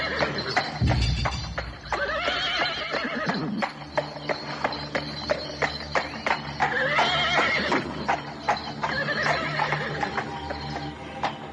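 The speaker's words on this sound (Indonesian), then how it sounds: "Perlahan-lahan kereta kuda mak rompang yang dikendalikan oleh kusirnya yang bernama Daksa berjalan perlahan-lahan meninggalkan tepi hutan." A horse-drawn carriage steered by its coachman rolls away from a forest edge, with a horse whinnying loudly up close over steady, rhythmic hoof clip-clops continuing throughout.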